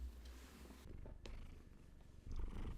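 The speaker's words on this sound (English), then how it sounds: "Gigi really wanted attention, so you're going to get some purrs in the middle of this" Gigi the cat purrs close to the microphone, a low rumbling purr with soft breathy pulses, growing slightly louder toward the end, with no talking.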